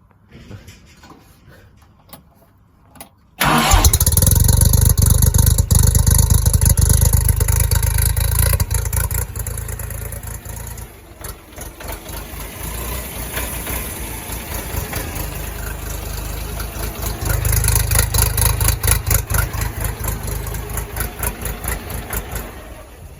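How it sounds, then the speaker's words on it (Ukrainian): A Scout XT244 tractor engine starts abruptly, then runs loud and close with a busy mechanical clatter, settling into an idle before it revs up again toward the end. "Давайте послухайте, мені подобається, як тут працює двигун, як він швидко набирає оберти."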